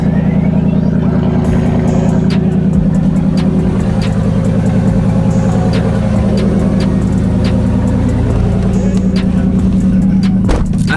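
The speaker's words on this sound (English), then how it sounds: "I haven't done a cold start on the truck in forever." A lifted Chevy truck engine idling loudly and close up after a cold start on a 28-degree morning, a steady low rumbling drone with a few sharp clicks over it.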